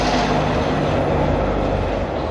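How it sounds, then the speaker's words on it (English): A large delivery truck's engine runs outside a laundromat near a liquor store, a loud, steady, continuous low rumble with a droning hum and no talk. "That's a fairly substantially sized delivery truck delivering to the liquor store that's a couple doors down from the laundromat that I'm at."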